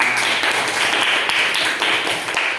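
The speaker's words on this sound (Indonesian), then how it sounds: "Tepuk tangan." Students clap together in a classroom, a brief dense patter of many hands that stays fairly even and close for a couple of seconds.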